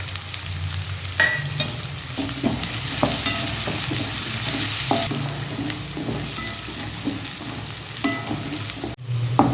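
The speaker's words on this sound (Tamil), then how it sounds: "எண்ணெய் காஞ்சிருச்சு. அதில் வெங்காயம்," Onions sizzle and crackle steadily in hot oil for a Kerala-style egg curry, close up, with occasional stirring clinks and no talking.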